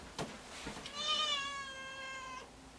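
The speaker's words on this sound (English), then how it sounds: "my cat Loki came to join us for it" A house cat gives a long, drawn-out meow with a clear rising-then-steady tone, close to the microphone, preceded by a couple of brief soft sounds in an otherwise quiet room.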